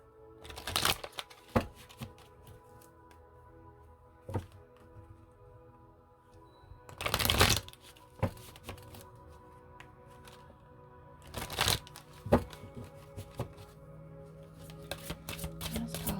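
Tarot cards are shuffled close by and fairly quietly: a few short riffling bursts separated by pauses, with light taps and card handling in between and no talking.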